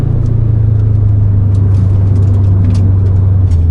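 A car engine hums steadily under light throttle while driving behind a Subaru WRX, a loud continuous low drone with road rumble and no talk.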